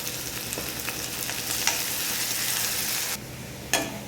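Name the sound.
onions and curry leaves sautéing in hot oil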